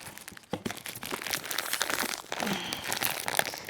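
Plastic bag packaging wrapped in tape crinkles and crunches close up, handled in irregular bursts of rustling with no voices.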